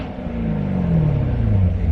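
A Chevrolet C7 Corvette with a Borla X-pipe exhaust revs up close, a deep rumbling engine note whose pitch falls slightly over two seconds.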